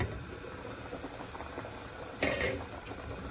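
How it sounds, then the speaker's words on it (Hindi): Water at a rolling boil in a cooking pot with steam rising, being readied for chicken pulao; a steady hiss and bubbling, with a brief louder clatter near the end. "पानी हमारा अच्छे से बॉईल हो चुका है, भाप निकल रही है।"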